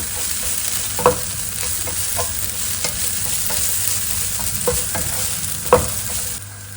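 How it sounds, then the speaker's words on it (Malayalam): Curry leaves hit hot oil with frying onions for a tofu curry, a continuous close sizzle broken by a few sharp crackling bursts and spoon stirs, with no voices. "നമുക്ക് കറി ലീവ്സ് ഇട്ട് കൊടുക്കാം"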